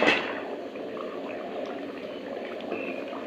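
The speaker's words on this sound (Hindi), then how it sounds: "उसके बाद हम इसका उबैल आने का वेट करेंगे।" A panja chana mix simmers in a handi cooking pot, giving a steady soft bubbling that holds at an even, fairly quiet level after a brief louder start.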